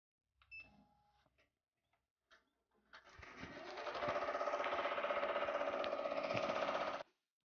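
Embroidery machine stitching monogram letters onto leather boots: a steady, rapid mechanical chatter ramps up and runs evenly for several seconds before stopping abruptly, preceded by a few quiet clicks and handling sounds.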